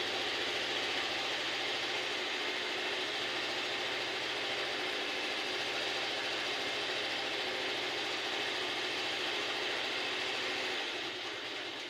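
A motorbike under repair gives off a steady, close mechanical rumble like an idling engine, running unbroken the whole time with no voices.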